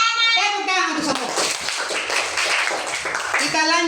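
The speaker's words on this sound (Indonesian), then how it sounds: "tepuk tangan untuk semua" Classroom of children clapping together for every group after a sixth-grade math lesson on rotational symmetry, a burst of hand claps mixed with kids' voices, with someone speaking over the start and end.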